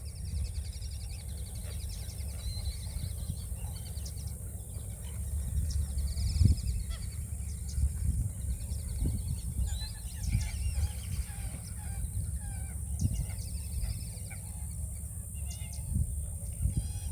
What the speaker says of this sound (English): the black-bellied whistling tree ducks